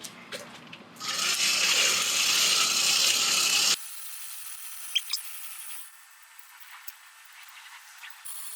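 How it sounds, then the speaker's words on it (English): A hand-cranked blower feeds air to a forge fire, giving a steady whirring, ratcheting gear sound for a few seconds before it stops abruptly. Faint clicks and light handling noises follow. "I'm using a hand blower instead of the hair dryer"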